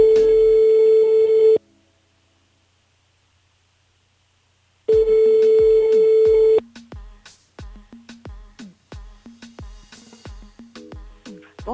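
Telephone line tones on a radio station's call-in switchboard: a loud steady tone, a pause of silence, the tone again, then a quick series of short electronic blips.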